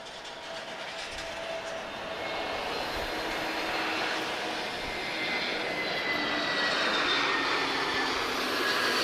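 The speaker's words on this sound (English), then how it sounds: "next arrival is TP531 arriving from Berlin, an A321 Neo" An Airbus A321neo jet airliner arriving at Lisbon Airport gives a steady, swelling engine roar that grows louder over the clip, heard from a distance with no voices.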